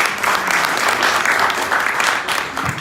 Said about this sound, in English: Another round of applause for Haji, please.